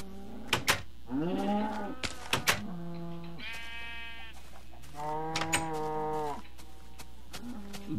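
Sheep in the Minecraft video game bleat several times in a row, each a clear, wavering baa, close and fairly loud with short pauses between calls and no talking.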